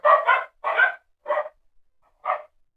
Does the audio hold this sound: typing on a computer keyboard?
no